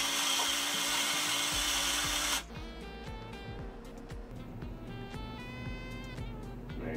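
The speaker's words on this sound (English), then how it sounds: "you grind that into the bin by pressing start" A Baratza Forte-AP espresso grinder grinding coffee into its bin: a loud, steady whir for about two seconds, then a lower rumbling grind with rattling texture that carries on to the end.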